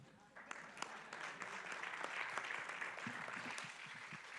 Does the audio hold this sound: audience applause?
yes